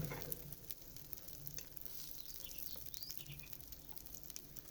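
Maize and greens paratha cooks in ghee on a pan, giving a steady, soft sizzle at low level with faint scraping touches, no voices over it.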